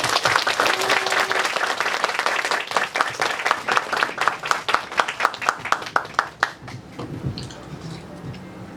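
An audience at a book talk claps loudly to welcome a pilot author, dense applause close by that thins into separate claps and fades out near the end.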